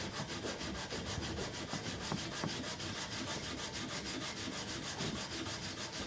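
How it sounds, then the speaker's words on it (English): Hand sanding of a wooden moneybox with rough 80-grit sandpaper makes a continuous, close, rhythmic scratchy rasp of quick back-and-forth strokes, steady throughout, with no voices. "the sanding comes from the movement"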